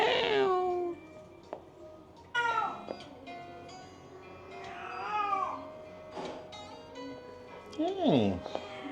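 A cat meows repeatedly nearby, a series of drawn-out, rising and falling cries with pauses between them, the last one louder and longer. Someone speaks in between.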